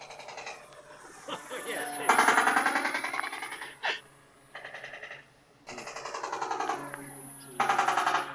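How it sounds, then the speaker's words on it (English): Machine gun sound effect from the onboard sound module of a Dancing Wings Hobby DW Eagle V2 1430mm EPP RC airplane, with rapid rattling bursts in several long strings separated by short pauses, close and steady, with a voice talking in places. "Is the machine gun effect on that"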